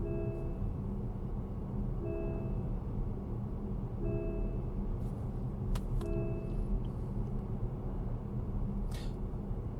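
MG HS PHEV sounding warning beeps while driving, four short double-tone chimes spaced about two seconds apart over a steady cabin road rumble, with no talk.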